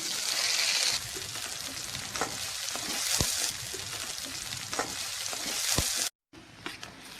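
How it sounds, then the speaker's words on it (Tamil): Onions and curry leaves sauté in a hot pan with a steady close sizzle and occasional stirring clicks, uninterrupted for several seconds before a brief break near the end. "அதுக்கப்புறம் வெங்காயத்தை போடுங்க. நல்லா வதக்கணும்."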